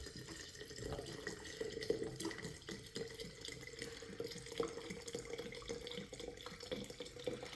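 Vodka pouring steadily into a tincture jar being filled to the top, a continuous close, fairly faint liquid splash and gurgle with no talk.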